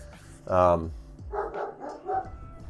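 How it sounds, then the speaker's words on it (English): Several dogs in a house give a sharp close bark followed by a few quicker yips and woofs, alongside background speech. "And there are my dogs."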